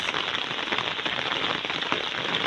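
Rain falls in a steady, dense patter on nearby surfaces, a continuous hiss with scattered drop taps and no talk.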